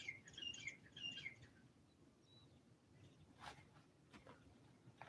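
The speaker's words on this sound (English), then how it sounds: "I'm listening to the birds now" Birds chirp and trill outdoors in quiet surroundings, with bright repeated calls early on, then sparser tweets over a faint background hum.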